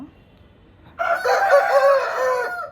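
After a brief quiet moment, a mixed-breed Aseel rooster lets out one loud, close crow, a long drawn-out call that fades at the end.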